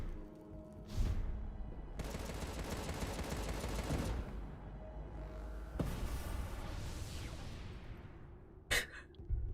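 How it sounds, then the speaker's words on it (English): Explosions and gunfire from the video game Contra: Rogue Corps, a steady loud barrage of blasts and booms with a sharp burst near the end, heard alone. "Like, it's an explosion. The sound design for that should just be like... Boom!"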